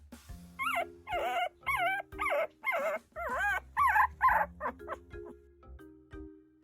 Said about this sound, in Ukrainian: біля нашого песика хтось скавчить